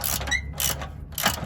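A bolt on a first-generation Nissan Xterra sway bar bushing being tightened with a ratchet: quick close mechanical clicking in short bursts with brief pauses between strokes.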